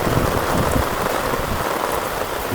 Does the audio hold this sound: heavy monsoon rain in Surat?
yes